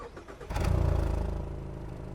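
A Mazda CX-5 with the 2.5-litre naturally aspirated engine starts up, a quiet hum giving way to a sudden surge as it fires, then a steady, throaty exhaust rumble settling slowly toward idle.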